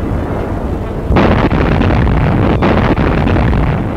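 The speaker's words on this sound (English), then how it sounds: "Shells from the doomed Nazi battleship continue to burst." Shells fired by a doomed Nazi battleship burst near a British warship in a naval battle, heard as a loud, rumbling wash of blasts with sharp bursts about a second and two and a half seconds in, over heavy wind buffeting.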